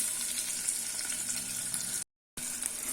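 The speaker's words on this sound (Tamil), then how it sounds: "வெங்காயம் நல்லா வதக்கிக்கலாம்." Onions sauté in oil inside a pressure cooker for tomato rice, a close, even crackling sizzle with no voices, cut by a momentary gap of silence before it resumes.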